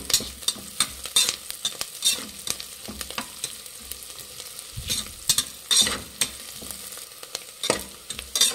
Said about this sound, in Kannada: ಗೋಲ್ಡನ್ ಬ್ರೌನ್ ಬರೋವರೆಗೂ ಚೆನ್ನಾಗಿ ಫ್ರೈ ಮಾಡೋಣ